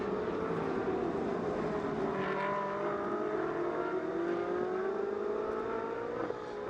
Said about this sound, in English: the cars scream down now